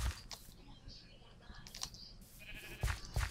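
Minecraft sheep bleating a few times in a blocky game world, short wavering calls mixed with clicking keyboard typing and faint background game sounds.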